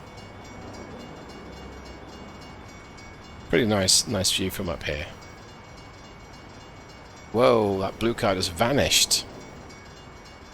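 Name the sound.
train passing at crossing in American Truck Simulator video game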